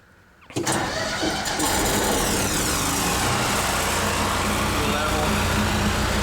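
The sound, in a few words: Ford F350 diesel service truck engine cranking and running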